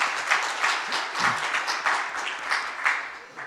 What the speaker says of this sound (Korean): 다시 한번 뜨거운 박수로 감사합니다